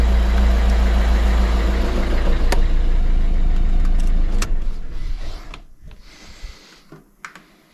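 Close, loud steady rumble of a Citroën DS3 1.6 HDi 110 hp diesel idling after its injectors were replaced, running evenly for several seconds, then dropping away to quieter background with a few sharp clicks near the end.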